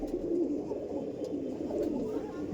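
A six- to seven-year-old male Madrasi chatiyal pigeon coos in a continuous low, close murmur, steady throughout with no pauses.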